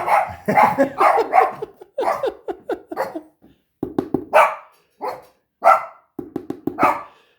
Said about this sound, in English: That's my daughter's dog.